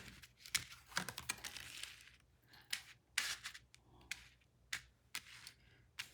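Tarot cards are shuffled, shifted and laid out on a table in a string of soft, close papery slaps and slides, irregular and quiet.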